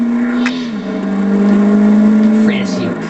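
An Aston Martin V8 Vantage engine revving up hard, loud and close, with one gear shift partway through as the pitch drops and then climbs again.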